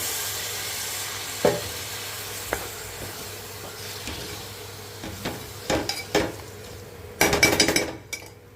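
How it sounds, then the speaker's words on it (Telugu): A steady frying hiss of dried prawn and raw mango curry with scattered utensil clinks, building to a louder burst of sizzling near the end as water is sprinkled into the hot oil. "ఇదిగోండి కొద్దిగా నీళ్ళు చిలకరిస్తున్నాము"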